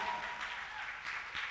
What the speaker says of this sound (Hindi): परदेसी सिस्टर के लिए ताली